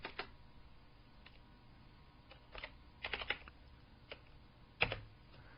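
Quiet, scattered keystrokes on a computer keyboard as a value is typed into an image-scaling field in GIMP, a few isolated taps followed by a short quick cluster and one firmer final key press, with no talking.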